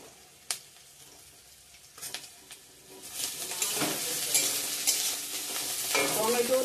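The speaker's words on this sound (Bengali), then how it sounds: "পেঁয়াজটা ভালো করে ভেজে নেব।" Onion, garlic and ginger frying in a pan and being stirred: faint sizzling and a few sharp utensil taps at first, then the hiss swells loud and steady with scraping stirs near the end.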